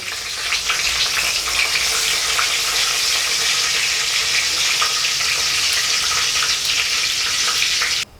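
Cinnamon, cloves, cardamom and bay leaf fry in hot oil for a beef curry, a loud, close, unbroken hiss and crackle that cuts off abruptly at the end.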